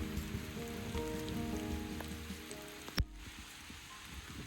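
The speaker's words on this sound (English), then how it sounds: "It's been super rainy." Rain falls on the Appalachian Trail in Georgia, a quiet continuous patter with a low hum underneath and a single sharp knock near the end.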